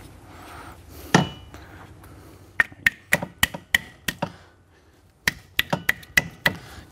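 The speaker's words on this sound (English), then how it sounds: "So all I got to do is start hammering on it." Sharp metallic hammer blows ring out close by on a C7 Corvette Z06 suspension spindle in quick bursts, a single heavy strike first, then rapid repeated hits with brief pauses.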